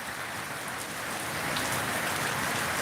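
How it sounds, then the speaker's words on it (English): Steady splashing of rain or water spatter on a surface, a broad, even hiss that holds constant and grows slightly louder toward the end, with no voices. "It's more like the splash of the rain."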